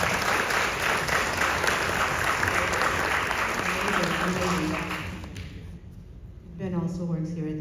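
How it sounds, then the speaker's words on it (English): An audience applauds a poster illustrator at a museum talk, a dense steady clapping that fades after about five seconds, with voices then speaking over the thinning applause. "I actually would love to give a round of applause to Ben for that"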